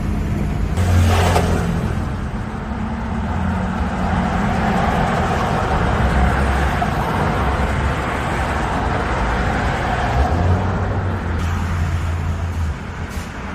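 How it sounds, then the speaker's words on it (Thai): An ABS pump motor runs with the brake pedal held down while an ABS pump is being replaced, giving a loud, steady mechanical whir and hum that continues unbroken throughout. "เวลาเหยียบเสียงมอเตอร์ ABS จะทำงานนะคร"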